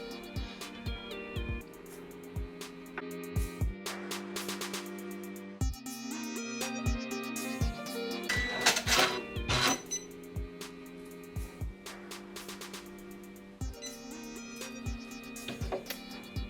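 A Janome 550E embroidery machine sews a placement stitch, giving a steady mechanical whir with rapid, rhythmic needle clicks, alone and close, with periodic louder clunks as the hoop moves.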